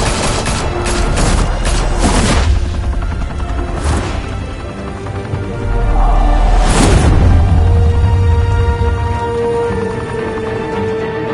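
Gunfire in a Batman video game: a loud fusillade of shots and booms, with bursts of fire early on and a heavier barrage midway, all against dense battle noise.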